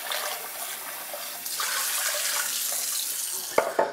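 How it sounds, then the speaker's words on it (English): Tap water streams steadily over sugar-salt marinated prawns being rinsed in a sink, a close, continuous splashing rush that swells midway, ending with a couple of sharp knocks. "Now I'm just going to rinse off the sugar and salt mix."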